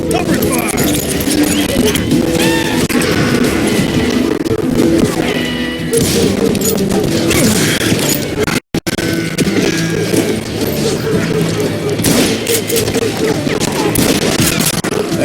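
Heavy gunfire in the Western game Call of Juarez Gunslinger, with rapid overlapping shots and crashes running throughout, loud and chaotic, along with shouted voices and background music, and one brief dropout midway.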